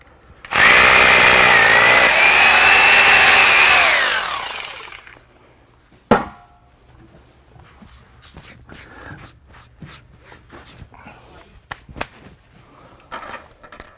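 A drill bores a hole into concrete for anchor bolts, giving a loud, grinding whine that lasts about four seconds before winding down, followed by a sharp knock and quieter clatter and handling noises.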